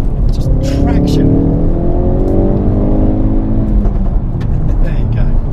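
A Ford Focus RS MK2 accelerates at full throttle in first gear, its engine note climbing in pitch as the revs build hard for several seconds before easing off near the end.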